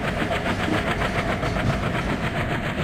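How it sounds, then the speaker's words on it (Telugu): Rhythmic clickety-clack of train wheels rolling over rail joints in the Indian Railway Train Simulator mobile game, a steady, loud, evenly pulsing clatter with no talk. "So once listen the track sounds also guys."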